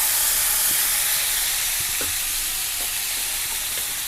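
Cluster beans with coconut being stirred in a hot pan, a steady broadband sizzle with a few soft scrapes of the spoon, close and continuous with no talking.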